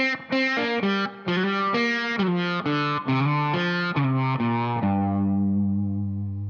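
Distorted electric guitar plays a bluesy pentatonic lick of quick picked notes, then settles into a ringing low chord that fades out.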